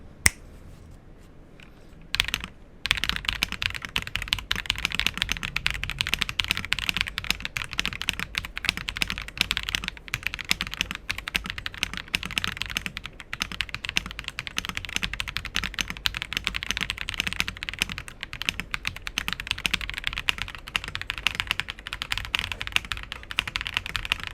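Steady, continuous typing on a Rakk Lam-Ang Pro Max mechanical keyboard with linear switches, smooth keystrokes clattering close by for the whole stretch after a brief quiet start; no voices.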